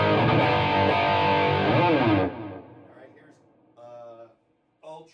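Loud, heavily distorted electric guitar chord through a Bogner Uber Ultra tube amp in Uber mode with gain at half rings out for about two seconds, then decays into quieter fuzzy noise with a couple of short, buzzy bursts.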